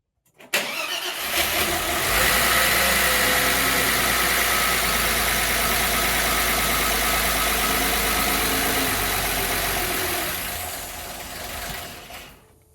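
An Audi A6 Avant engine cranks and catches, then settles into a steady, loud idle close by for about ten seconds before fading out, with no talking over it.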